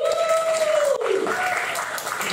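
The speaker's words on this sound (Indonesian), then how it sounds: "Tepuk tangan yang luar biasa untuk semuanya." Audience at a panel discussion event applauds the speakers, a steady wash of clapping mixed with a sliding electronic tone or music sting.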